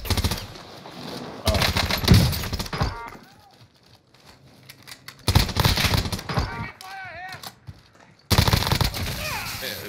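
Video game gunfire from Call of Duty on Rebirth Island comes in loud, rapid automatic bursts separated by quieter gaps, with players talking over the action.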